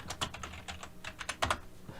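Rapid keystrokes on a computer keyboard in irregular bursts of clicks, close and fairly quiet, with no talking.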